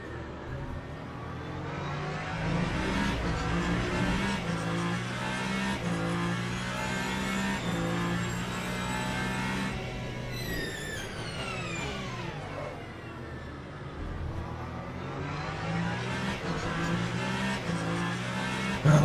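A Ferrari race car's engine roars at Spa in Le Mans Ultimate, holding a steady, close, loud drone with repeated rising and falling pitch sweeps as it revs through gear changes.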